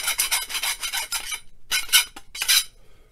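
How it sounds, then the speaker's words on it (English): A round file rasps inside drilled holes while a wind chime is being repaired, giving bursts of quick scraping strokes broken by short pauses, close and crisp, with no talking. "take the round file, clean up the inside of those drill holes"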